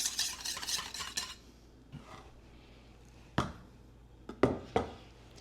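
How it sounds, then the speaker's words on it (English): A whisk beats a vanilla mixture in a bowl, with a quick burst of rapid clicking strokes at the start, then a few scattered clinks and taps against the bowl in between quiet pauses. "We'll whisk this mixture up and then add it to the chocolate mixture."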